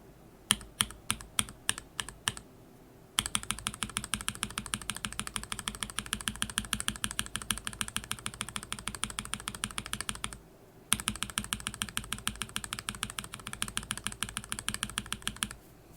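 Keyboard switches fitted with Kailh Polia stems and keycaps clack under fast typing, a few sparse keystrokes first, then a dense steady run of crisp close clicks with one brief pause.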